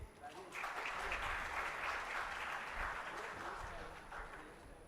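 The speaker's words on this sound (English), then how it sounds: "Big round of applause, please." A conference audience at IMC 2025 applauds in a sustained, fairly distant wash of clapping that lasts several seconds before fading, with a faint high tone hanging in the room.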